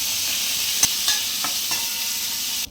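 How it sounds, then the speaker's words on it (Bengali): Cauliflower sizzles in hot oil with a steady hiss while a utensil scrapes and clinks a few times, stirring the pieces and lifting them out of the pan. "ফুলকপিটা ভাজা হয়ে গেছে। এরপর আমি এটা তুলে নিচ্ছি"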